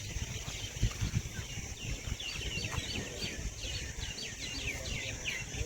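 Birds call around a hillside temple at Mount Abu, Rajasthan, with quick repeated chirps and twittering phrases from a few meters away over low background rumble and scattered knocks.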